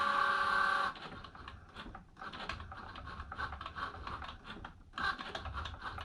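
Cricut Joy cutting machine drawing with a pen, a steady close mechanical whir with quick scratchy ticking as the carriage moves back and forth, opening with a brief louder motor hum.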